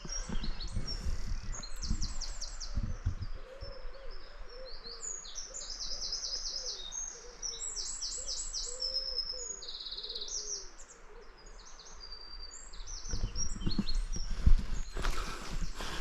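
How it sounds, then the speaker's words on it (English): Several birds sing and chirp in bright, repeated phrases over a soft outdoor hush by a river in the North York Moors in the early morning, with a low rumble swelling near the end. "All you can hear is birds singing."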